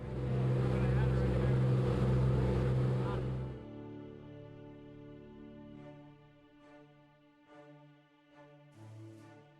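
An 88-foot Type 2 San Francisco Fire Department fireboat runs on the water. Its engine gives a loud, steady low rumble for several seconds, then settles into a quieter droning hum with faint tonal whine and intermittent knocks.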